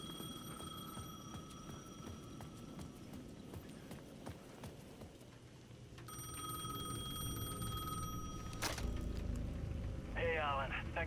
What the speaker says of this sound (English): The phone rang, and I knew it was for me.